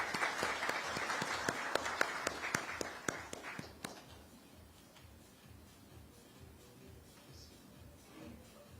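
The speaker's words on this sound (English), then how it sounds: "can we give him an applause" Audience applause at a metals industry summit, a dense burst of clapping for the first four seconds that then fades to scattered claps and room murmur.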